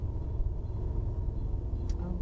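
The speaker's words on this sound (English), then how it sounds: "there goes the truck" A truck drives along a Kenosha street as a low, steady engine rumble with road noise, moderately loud and continuous, heard from inside a moving car.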